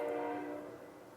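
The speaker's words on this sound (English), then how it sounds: "I'm sorry about the train." A train horn sounds nearby in a sustained, slightly fading tonal blare over low rumbling rail noise, alone without talk.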